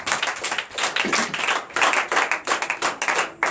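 Rhythmic clapping from a congregation at a night church service, a dense run of loud, evenly spaced claps filling the room and carrying on without pause.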